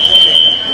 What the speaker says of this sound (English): all their alarms are going off right here